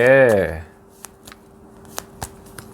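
Tarot cards are shuffled in a short riffle and then laid out, with a few soft separate taps and slaps after a brief voiced sound at the start.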